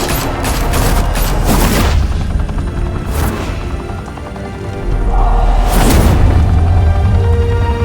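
Thugs open fire in Batman: The Telltale Series, several loud bursts of gunshots cracking out in clusters over a constant low rumble, with a short quieter stretch between volleys.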